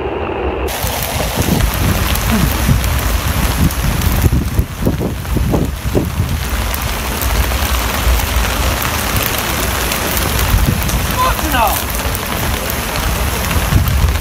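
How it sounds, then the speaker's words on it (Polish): Steady heavy rain pours at an outdoor anti-war rally, drops drumming loudly and continuously on plastic bags and the ground, with a few gusts and occasional louder spatters throughout. "Powiem tak, pięknie pada deszcz."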